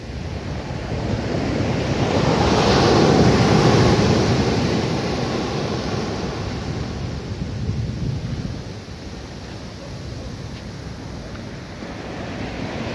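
Sea waves breaking at Kovalam beach in South India, a steady loud roar of surf that swells and recedes, with wind buffeting the microphone and no voices.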